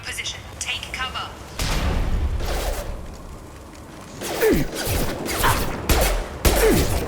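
Security mechs open fire in Mass Effect 2, with bursts of gunfire and heavy thumps in a combat scene, partly under a spoken voice.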